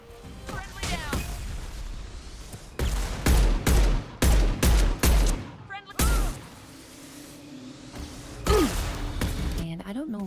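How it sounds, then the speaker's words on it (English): In Mass Effect 2, Shepard's gunfire cracks out in loud, sharp bursts of repeated shots amid game combat noise, broken by short pauses, with a voice talking over parts of it. "Shepard's gunfire in these Mass Effect games has been so loud compared to everything else in the game."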